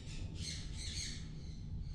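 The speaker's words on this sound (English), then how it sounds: "Got the noisy birds out." Noisy birds squawking loudly and continuously in a garage or workshop, harsh calls repeating over a steady low background hum with no talking.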